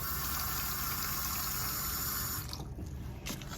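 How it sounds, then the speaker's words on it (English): Water runs steadily from a tap into dental stone powder for pouring up impressions, a continuous close hiss that cuts off after a couple of seconds, leaving a few faint drips and splashes. "then I'm gonna add some water."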